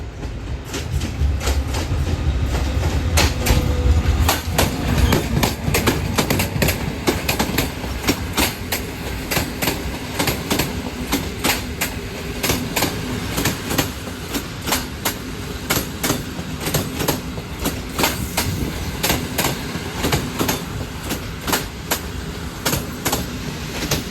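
A train pulls into Kołobrzeg station, its wheels beating a loud, steady clickety-clack over rail joints with a rumbling undertone, continuous and close throughout.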